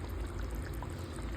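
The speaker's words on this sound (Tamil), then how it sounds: "இந்த ஸ்டேஜில் நம்ம ஆல்ரெடி பிளெண்ட் பண்ணி வச்சுருக்கோம்ல அந்த முட்டையை நான் ஆட் பண்ணிக்கிறேன்" Beaten egg poured into a thick, simmering egg gravy, a short soft continuous pour heard close up on its own.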